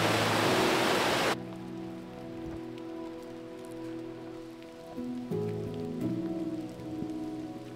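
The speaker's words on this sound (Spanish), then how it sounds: "Hoy día se supone que dejaba de llover. Sí, sigue lloviendo." Rain falls steadily on a forest trail in Huerquehue National Park, Chile, in winter: a loud broadband wash at the start gives way to a softer, continuous patter with low tonal hum beneath, and no talking.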